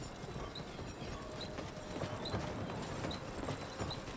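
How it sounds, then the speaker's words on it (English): Horse hooves clip-clop in the Skyrim Wildlander game, a soft, steady walking rhythm heard faintly at a distance under low ambient noise, with no talk. "this horse is just kind of vibing back and forth"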